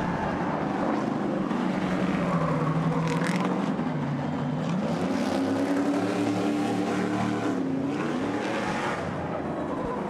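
Race cars on the last lap of a 2022 Nashville race, engines roaring loudly and continuously with rising and falling pitch as they run side by side, no talk.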